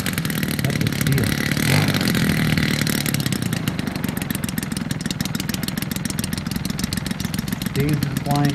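A Yak 54 RC model aircraft engine, hand-started by the pilot, runs steadily at a fast idle with a buzzing, rhythmic drone close by, rising slightly near the end, with faint voices in the background.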